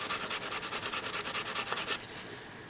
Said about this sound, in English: if you want to smooth it out, I have a finer sandpaper here